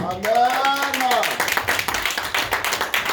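A church congregation at a French-language Sunday service claps in steady rhythmic bursts to acclaim the Lord, loud and close, as a voice speaks over the start.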